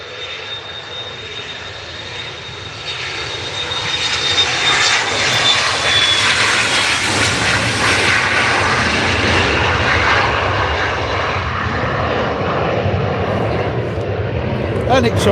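An Emirates Airbus A380 takes off from Manchester Airport. Its jet engine roar swells from a moderate rumble to a loud, sustained broadband thunder, with a person talking under it.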